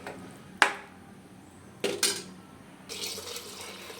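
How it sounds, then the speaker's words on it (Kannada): Water is poured into a cooking pot for methi pulao, with sharp metallic clinks and knocks of vessels, then a steady splashing pour toward the end, close and alone without talk. "ನಾಲ್ಕು ಲೋಟ ನೀರನ್ನ ಇದರೊಳಗಡೆ ಹಾಕ್ಕೊಂಡಿದ್ದೀನಿ"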